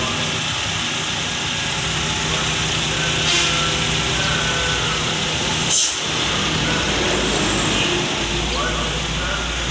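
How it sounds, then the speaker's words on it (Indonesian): A 2008 Toyota Avanza G manual with a 1.3 engine running at idle, a steady low hum that continues without a break, with brief louder transient noises over it. "Mesin kering sehat."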